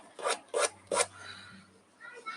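A finger rubbing acrylic paint across canvas while painting a glass and wine bottle: three quick raspy strokes, close and fairly quiet, then a softer lingering scrape.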